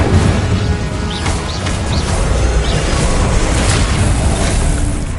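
An Incendio fire spell cast in a Harry Potter video game gives a loud, continuous roaring, crackling burst of flame with rumbling booms throughout.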